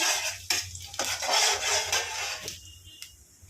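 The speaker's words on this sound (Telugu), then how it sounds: "దీంట్లోకి కొంచెం జీలకర్ర, ఎండుమిర్చి వేసుకుందాం. ఒకసారి తిప్పేసుకొని" Cumin seeds and dried red chillies fry in hot oil as a utensil stirs them, a close, bright sizzle with a few clinks and scrapes against the pan before it tapers off near the end.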